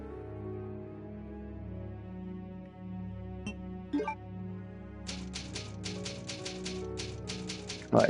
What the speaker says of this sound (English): It's an old typewriter. You can save your progress with this.